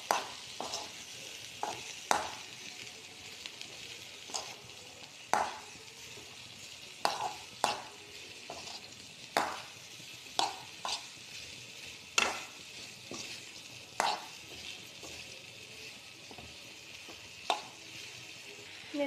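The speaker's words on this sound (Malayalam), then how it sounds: "ഇനി ഇതിലേക്ക് അരിഞ്ഞു വെച്ചിരിക്കുന്ന വെണ്ടയ്ക്ക ഇട്ട് കൊടുക്കാം. നമുക്ക് മിക്സ് ചെയ്ത് കൊടുക്കാം." Chopped okra stirred in a hot pan, frying with a steady sizzle broken by regular spoon scrapes and clicks against the pan, close and moderately quiet.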